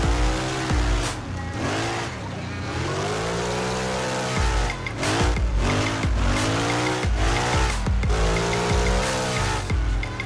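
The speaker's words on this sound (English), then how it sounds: "we'll hit that handbrake, see if we can get it to slow" A car drifting in the racing game Assetto Corsa, with a loud sustained engine whine rising and falling through repeated revs, overlaid by continuous tire squeal and skidding across the whole stretch, with no speech.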